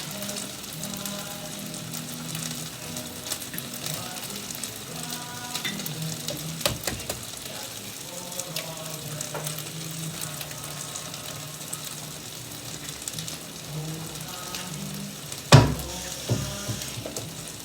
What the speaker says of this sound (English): I'm gonna take 2 eggs and crack them right in the middle.